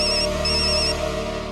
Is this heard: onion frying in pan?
no